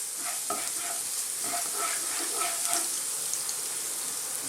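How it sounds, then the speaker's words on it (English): Ginger frying in oil for a chili chicken dish, a close, even sizzle broken by light, repeated crackles and small clatters of stirring, no voices over it. "We just want to cook this for a few seconds, get all those lovely flavours into that oil."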